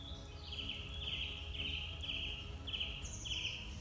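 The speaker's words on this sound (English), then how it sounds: "That's a blackbird." A blackbird sings in a wild Norfolk woodland of old trees at dawn, a series of short, repeated warbling phrases with slight pauses, moderately distant and fairly quiet against a low outdoor hum, with no one talking.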